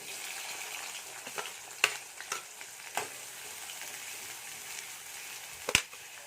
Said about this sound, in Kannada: 2 ಚಮಚ ಎಣ್ಣೆ ಹಾಕ್ತಾಯಿದ್ದೀನಿ. ಕಾಯ್ದಿದೆ. ಸ್ವಲ್ಪ ಜೀರಿಗೆ, ಸ್ವಲ್ಪ ಸಾಸಿವೆ, 1 ಉಳ್ಳಾಗಡ್ಡಿ ಚಿಕ್ಕದಾಗಿ ಕಟ್ ಮಾಡ್ಕೊಂಡದು